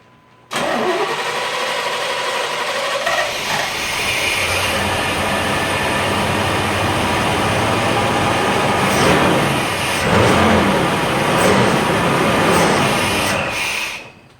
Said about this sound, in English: Okay, so we have a running vehicle now.